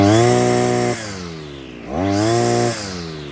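A Vevor 43cc two-stroke gas engine on a 6-in-1 combo tool runs loud and close, revving up, dropping back to idle, then revving again with a buzzing whine.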